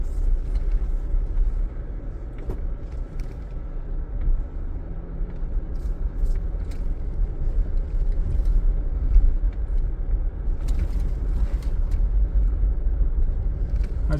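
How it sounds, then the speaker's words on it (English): A car drives along a dirt road in Utah's West Desert, giving a steady, close low rumble with road noise and occasional light knocks throughout, and no talk. "I just love driving on these roads, it's so cool."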